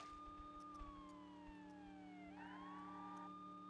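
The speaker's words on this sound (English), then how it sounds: "Let you hear the siren for a little bit." Police car siren in the video game True Crime: New York City, a clear wailing tone sweeping down and back up over a steady low engine hum, heard alone without talk.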